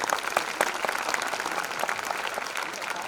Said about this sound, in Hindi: मैंने आपकी ताली सुनी लेकिन बहुत इंप्रेसिव नहीं लगी